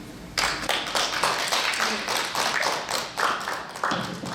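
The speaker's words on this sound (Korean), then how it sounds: "성재민 박사님께 다시 한번 큰 박수 부탁드립니다" Seminar audience applauding after a researcher's presentation on job polarization at a Korean government employment committee forum; a dense, steady wash of many hands clapping, fairly close and sustained for several seconds with no talk over it.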